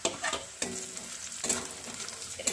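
Dried red chillies and lightly fried onions stirred in a hot pan, a continuous sizzle broken by scraping strokes of a spatula at irregular intervals, close and clear with no voices.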